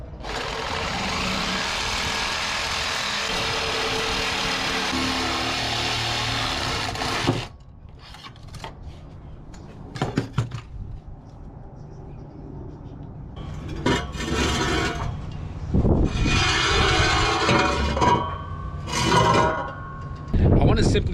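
A cutting tool slices off a section of welded exhaust pipe under an AWD turbo Honda CRX, a loud steady grinding whine for about seven seconds, then scattered clanks and rustling, with a second burst of cutting near the end.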